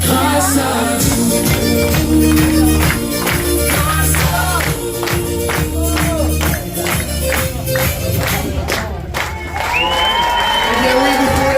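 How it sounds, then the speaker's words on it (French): A crowd applauds inside a SPAR supermarket in Mouleydier celebrating its second anniversary, with rhythmic clapping over background music and some voices, loud and continuous throughout. "Eh bien oui, vous pouvez l'applaudir."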